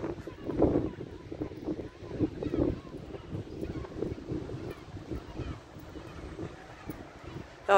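Wind buffets the microphone in gusty rumbling bursts on an open seaside lookout at Tarifa by the Strait of Gibraltar, steady and fairly loud with a voice speaking now and then beneath it.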